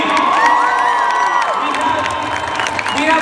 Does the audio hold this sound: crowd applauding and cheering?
yes